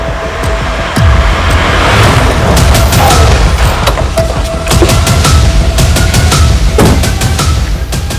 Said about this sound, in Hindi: रात को 2 बजे फिर गोली की आवाज आई है